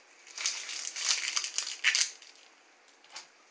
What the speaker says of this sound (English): I peel the onion, I slit it a little.